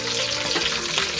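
Curry leaves sputtering in hot oil in a home kitchen while cooking gongura chutney, a dense, steady crackling sizzle, loud and close throughout, with no voices.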